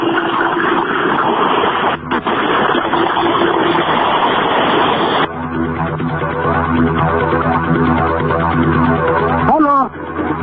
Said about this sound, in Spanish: nos encontramos en el aeropuerto, ya arrastrando los motores de la avioneta OB-1629